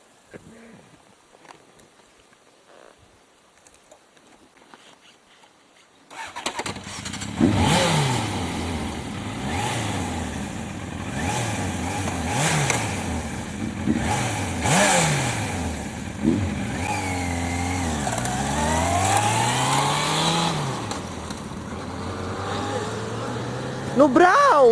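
After a few quiet seconds a motorcycle engine starts and revs close by, rising and falling through repeated throttle blips and gear changes as the bike pulls away, with voices faintly audible.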